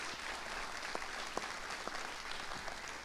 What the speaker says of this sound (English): now that you clap for him, clap one more time.